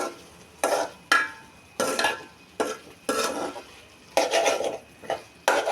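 Green banana mash stirred with spices in a pan, a utensil scraping the metal in about ten sharp, irregular strokes of varying length, close-up and clear, without any voices.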